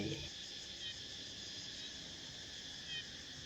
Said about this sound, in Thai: เสียงนกไกลๆขับกล่อมกับเสียงจักจั่นยามพลบค่ำ